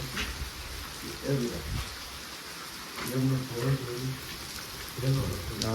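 Heavy rain pours steadily in the village of Nilakha, a broad hiss running throughout while people talk intermittently over it nearby.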